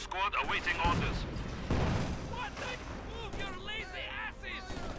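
Company of Heroes 2 battle with heavy booming gunfire and blasts in a busy mix, other loud effects and chatter layered throughout.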